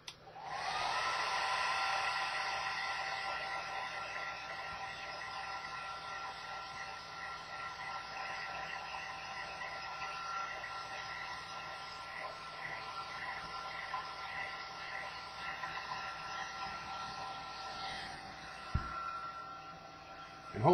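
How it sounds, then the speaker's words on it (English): A hair dryer blows steadily at close range, drying salt scattered on a painting for a rust-effect technique; the hiss stays loud and constant throughout with no talking. "all we're going to do is use a hair dryer to dry this out"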